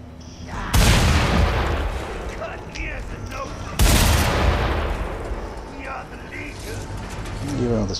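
Gunfire in the Mad Max video game: two heavy, loud blasts a few seconds apart, each trailing off into a rumbling decay, with faint mechanical rattles in between.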